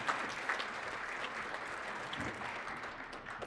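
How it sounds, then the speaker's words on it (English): Seminar audience applauding at a real estate business talk, a steady wash of moderate clapping that holds evenly for the whole stretch. "A big round of applause for you guys for being in attendance, right?"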